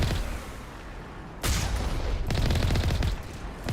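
Gunfire in the video game Mass Effect, dense bursts of rapid shots and booms that ease briefly and then return louder and sustained, with no talking.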